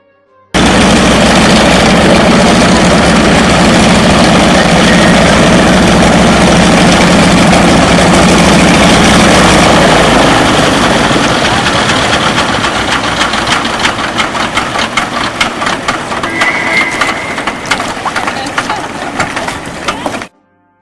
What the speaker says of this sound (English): This is a beaver, probably the most popular bush plane.